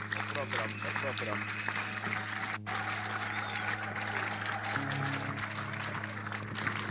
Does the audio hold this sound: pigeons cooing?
no